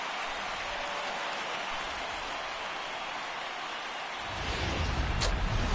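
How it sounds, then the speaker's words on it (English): Steady broadband rain hiss falling in the MLB The Show baseball video game, continuous and fairly loud throughout, swelling a little louder toward the end with no talk over it. "There is rain."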